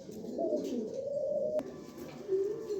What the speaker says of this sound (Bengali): দেখার মতো বিশাল সাইজের এক পেয়ার কবুতর